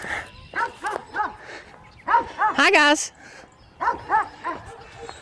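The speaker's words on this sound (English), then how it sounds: "there's dogs in every direction. They're having an important dog meeting about something." Several dogs bark from different directions outdoors on a morning walk, in clustered bursts of yips and barks at moderate distance, with a person briefly speaking between them.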